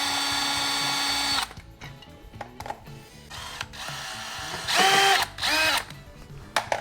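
A power drill drives screws for a Garmin fish finder transducer mount on a Tracker Pro Guide V-16 WT boat, with one long whine, then several short bursts of the motor starting and stopping, close and loud.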